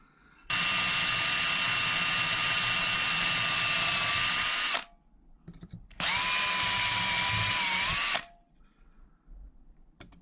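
A power drill works on the rivet of a cracked Dinky Ford Consul Capri die-cast model, whining steadily in two long bursts with a short pause between, its pitch dipping slightly under load near the end of each run.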